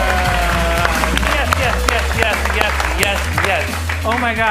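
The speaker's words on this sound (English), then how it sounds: "Give another big round of applause to Anthony and to Luke and to Jack who supported us" Audience applause and cheering at a Saturday night showdown event, a dense steady wash of clapping from a crowd with voices calling out over it throughout.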